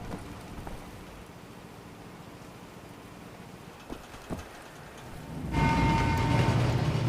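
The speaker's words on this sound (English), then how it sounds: "Oh, train going overhead." In the Wolfenstein video game, quiet ambience with a couple of soft knocks gives way near the end to a sudden loud rumbling roar and clatter as a train passes overhead.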